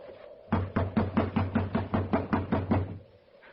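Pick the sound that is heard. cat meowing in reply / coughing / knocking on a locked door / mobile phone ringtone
knocking on a locked door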